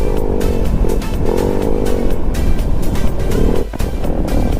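A loud, rumbling motorcycle exhaust idling and revving up close, with a throaty, steady engine note and occasional rises in pitch.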